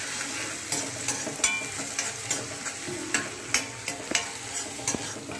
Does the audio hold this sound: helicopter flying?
no